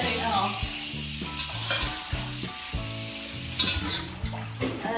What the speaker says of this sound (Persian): به نظرم که پیازم در حال سرخ شدن است